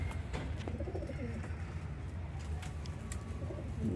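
Pigeons coo softly in low, repeated murmurs against a steady background hiss, with a few scattered clicks and no talking.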